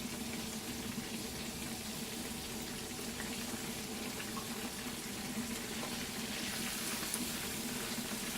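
Fish frying in a pan for a soul food Sunday dinner, giving a steady, dense sizzle that holds at an even level throughout with no talking.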